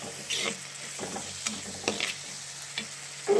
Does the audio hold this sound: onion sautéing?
yes